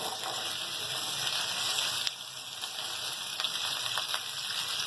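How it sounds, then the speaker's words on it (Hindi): Okra frying in hot oil in a large frying pan, a dense, steady hiss and crackle close up with a couple of faint clicks, no voices. "अब ये जैसे ये तेल गर्म हो जाएगा, मैं फ्राई के लिए भिंडी डाल दूंगी।"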